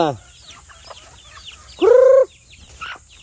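A hen and chicks: clucks with one loud, drawn-out squawk near the middle and faint chirps scattered around, close by.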